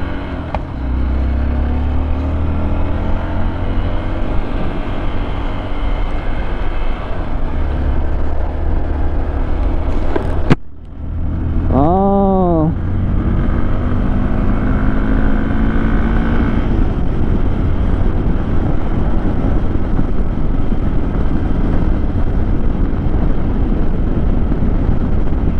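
A motorcycle is ridden on a road trip from Kathmandu toward Tatopani, its engine droning loudly and steadily with wind noise, a brief dip mid-ride, then rising revs and a short chirping tone before it settles back into a constant hum.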